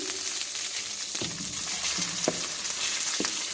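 Chopped onion sizzles in a hot frying pan, a steady bright crackle broken by a few sharp spoon scrapes and taps against the pan, close and unaccompanied by voices.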